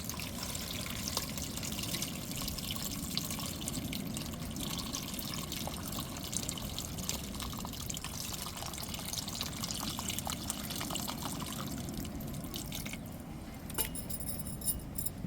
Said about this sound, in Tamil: இப்போ புளி தண்ணி கரைச்சி வச்சுருக்கோம்